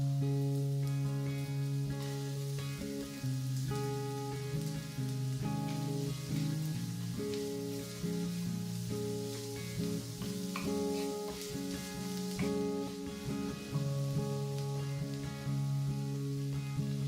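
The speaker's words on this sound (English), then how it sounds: "Add the minced carrot and onion, then stir until it is soft." Minced carrot and onion sizzle in a tablespoon of olive oil in a pan over medium heat, a steady soft frying hiss running beneath loud continuous music.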